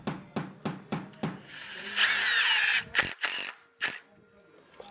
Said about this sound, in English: we take screws and run right into the pocket to hold it